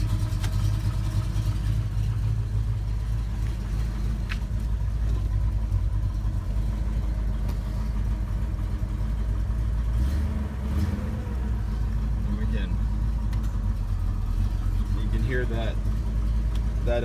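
A 1970s-era Oldsmobile 442 with a near-stock 455 engine idles smoothly, a steady, close low rumble that continues throughout, with a faint brief click partway through and no talking.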